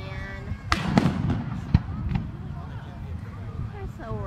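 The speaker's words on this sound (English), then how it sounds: "I love the fireworks so much" Canada Day fireworks bursting overhead: a few sharp, booming bangs with crackle between them, heard over steady background noise while people talk nearby.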